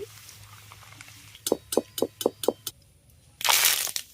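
Peanuts frying in hot oil for homemade chanachur crackle and pop in a quick run of sharp, close snaps, followed by a short loud sizzling burst at the end.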